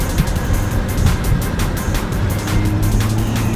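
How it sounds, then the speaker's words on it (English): An Audi RS3 accelerating hard, its engine and exhaust giving a loud continuous rasping roar with rapid pulsing crackles, heard up close and alone. "This RS3 is just that noise."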